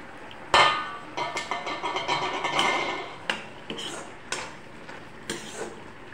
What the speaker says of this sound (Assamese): এতিয়া ঢাকনিখন খুলি মই অকণমান লৰাই দিম চব্জিখিনি।